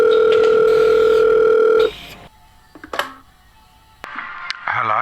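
A loud, steady telephone dial tone hums for almost two seconds on a call to a festival circus show. Quieter clicks and line noise follow.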